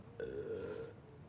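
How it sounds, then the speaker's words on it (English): A single drawn-out burp from a character's emote in the video game Fortnite, heard clearly and alone, lasting under a second. "Did he just burp? I've never seen that emote before."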